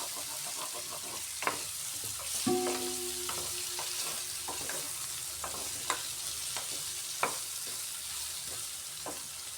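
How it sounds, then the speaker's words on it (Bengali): Pointed gourd frying in a pan while being stirred over and over, a steady close sizzle broken by repeated sharp scrapes and clicks of the spatula, with a brief clank partway through. "ওইভাবে বারবার নাড়াতে হবে তা হলে পুড়ে যেতে পারে"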